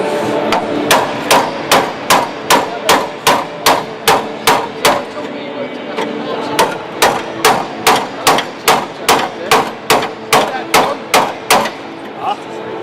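Steady hammer blows ring out on metal parts of a Triumph TR7 being restored at the NEC Restoration Show, struck in an even rhythm of about two hits per second with a brief pause midway, loud and close against a busy hall background.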